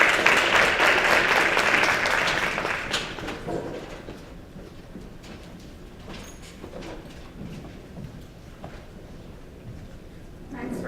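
A crowd at a lecture on immigrants and the US labor movement claps loudly for a few seconds, then the applause fades into room noise and shuffling while a voice begins speaking.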